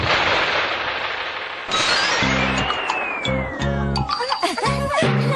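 Fireworks in a Doraemon cartoon: a rising whistle followed by several sharp bursts and crackles, loud and close, with chiming tones among the pops and no voices over it.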